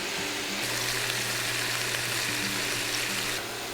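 Garlic sizzling steadily in a pan alongside braised pork belly for Taiwanese lu rou fan, a continuous broadband frying hiss with a low hum beneath, even and close throughout.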